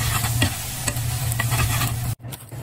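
Yakisoba noodles fry in a pan with chuno sauce and tempura bits, giving a loud, close, continuous sizzle with light stirring scrapes. The hiss briefly cuts out near the end, then resumes.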